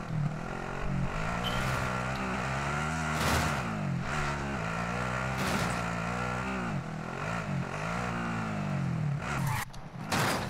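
Car engine in the shooter Warzone revving and accelerating through repeated gear shifts, a rising and falling drone held close and loud the whole time, with a brief cut near the end.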